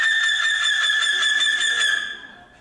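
A person on stage at a college variety show imitates a seagull's screech, a loud, shrill, wavering cry held for about two seconds before it fades out.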